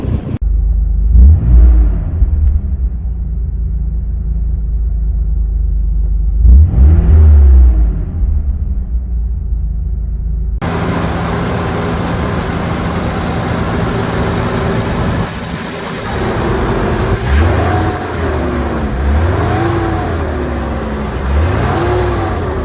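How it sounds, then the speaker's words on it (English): A Nissan 300ZX Z32 twin-turbo with a manual gearbox, suffering a misfire, revs twice in loud, swelling bursts over a steady idle, then settles into a rougher, louder running drone with more rises in pitch. "I'll let it warm up and then I'll give it a few revs."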